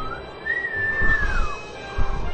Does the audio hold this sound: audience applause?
no